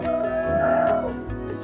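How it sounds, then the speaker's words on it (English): A young rooster crows once from a backyard chicken coop in cold, wet winter weather, a clear drawn-out call that fades off, with faint background noise afterward. "new rooster."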